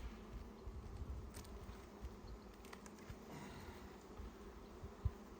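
Honeybees buzz softly and continuously around an opened hive during an inspection. The hum is faint and fairly distant, with a low rumble under it and one small knock near the end.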